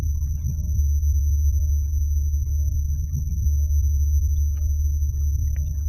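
Heavily distorted bass drone from a Minecraft Nether soundtrack remix built on ghast samples, a thick, constant low rumble with faint scattered higher blips above it.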